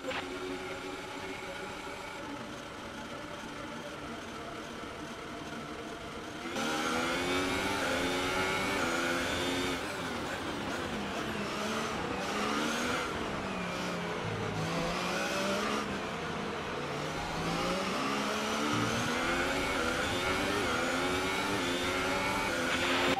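Formula 1 race cars in the F1 2018 video game accelerate at the Belgian Grand Prix after a safety car, loud engine roar climbing through repeated upshifts with overlapping revving cars throughout, no talk.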